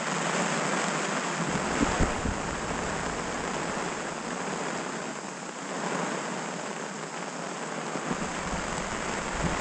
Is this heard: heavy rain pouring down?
yes